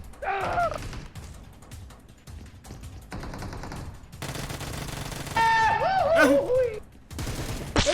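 Gunfire bursts from PUBG Mobile on the Sanhok map ring out in rapid volleys, fairly close and loud, while someone talks over much of the action.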